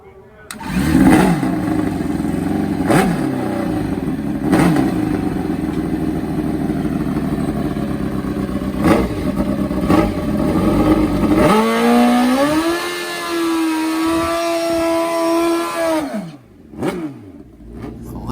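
Nitro Harley or turbo Hayabusa drag racing motorcycle at a drag strip, loud idling and revving, then launching with a rising, sustained engine scream for several seconds before cutting off, with an announcer talking over it.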